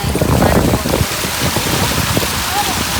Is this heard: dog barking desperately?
no